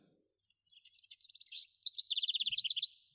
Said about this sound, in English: especially when it comes to these sounds of the birds there